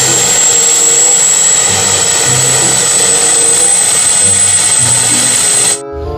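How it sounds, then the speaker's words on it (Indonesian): Loud continuous whine and roar of a police helicopter turbine with a high steady tone, cutting off abruptly near the end. "Yang ini helikopter polisi."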